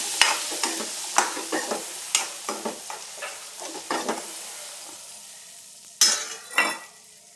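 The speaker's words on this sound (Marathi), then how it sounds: "लाल तिखट घालायचं आहे. छान परतून घ्यायचे. त्यात आपल्याला वाटाणा घालायचं." Peas being stirred and sautéed in a pan with red chili powder and homemade garam masala, a steady sizzle broken by repeated close stirring scrapes, then two louder bursts near the end.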